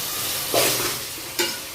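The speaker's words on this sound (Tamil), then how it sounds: "இப்போ இஞ்சி பூண்டு பேஸ்ட் நம்ம ஆட் பண்ணியிருக்கோம். இதை நல்லா வதக்கிப்போம்." Ginger garlic paste sautés in a pan for biryani in a home kitchen, a steady sizzle with two short bursts of stirring, close and fairly loud, no talking.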